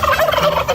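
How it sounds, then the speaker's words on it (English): A farm turkey gobbles close by in one loud, quick, warbling burst lasting under a second. "2 turkeys."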